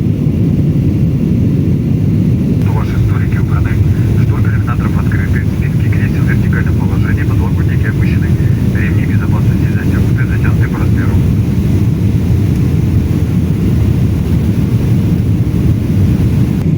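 Airplane cabin during a landing at Vnukovo International Airport after a flight from Yakutsk, with a loud, steady low engine and airflow roar that continues throughout, while a voice talks over it in the middle.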